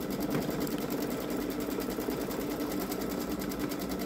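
A Baby Lock Solaris embroidery machine runs with a steady, close mechanical whir and a fine rapid rhythmic chatter as it drives the hoop, continuous and even throughout with no talking.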